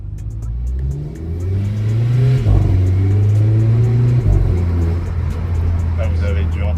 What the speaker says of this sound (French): je vais vous faire écouter le bruit de l'intérieur et les petits retours au passage des vitesses